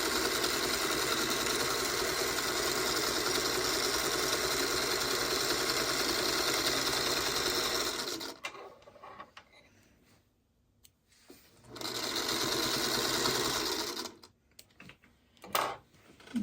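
A sewing machine stitching a 1/4 inch seam on a scrap-apple quilt block whirs steadily and close for about eight seconds, then stops, followed by quiet handling and a few short mechanical bursts.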